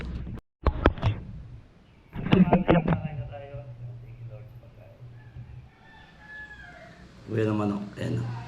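A live chicken clucks and crows in short bursts nearby, with people talking in between.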